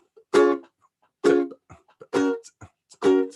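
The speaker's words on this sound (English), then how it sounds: "So what's happening is that you're going to be pinching and releasing right after playing. Pinch, release. That's the idea. And those 2 ingredients are the reggae strum." Short, choppy reggae strums on guitar chords, each struck and then quickly muted by pinching and releasing the fingers; four clean, close stabs with silence and faint finger noise between them.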